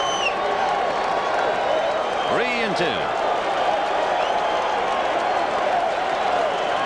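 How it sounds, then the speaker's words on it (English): A ballpark crowd at Game 2 of the 1986 World Series, Red Sox at Mets, with Roger Clemens pitching: a steady, loud roar of cheering that holds throughout while an announcer talks over it. "Now with Clemens, you hear the crowd, they want to walk."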